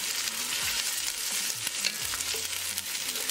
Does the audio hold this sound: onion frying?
yes